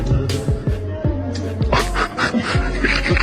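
A dog pants and whimpers close by in a short run of high, wavering cries and breaths, with background voices and noise throughout.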